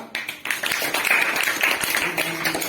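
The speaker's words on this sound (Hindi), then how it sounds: "ताली बजानिए बेटा।" Schoolchildren at an award ceremony clap together in a steady, fairly close patter of many hands that carries on for almost three seconds, with a faint voice beneath it.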